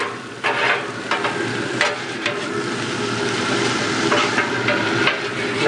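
Thai food sizzling steadily on a BBQ griddle insert as a spatula scrapes and tosses it, with repeated metallic clacks over a constant frying hiss and no speech.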